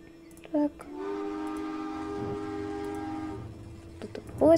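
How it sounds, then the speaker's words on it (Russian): A train passes in the Roblox game Jailbreak, a steady sustained horn-like tone with rumble lasting a few seconds, with short game blips before and after. "Кто-то поезд там проехал."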